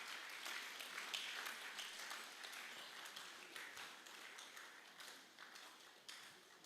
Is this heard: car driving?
no